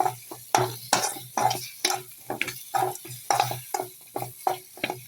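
Meal maker masala being stirred in a pan over a low flame, a spoon scraping in a steady rhythm of about a dozen close, distinct strokes with a faint sizzle underneath.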